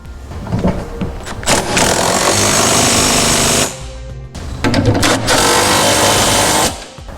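Power tool tightening trailer hitch hardware and flange nuts on a 2012 Honda CR-V, two long loud rattling bursts of about three seconds each, separated by a short pause, with brief shorter bursts before them.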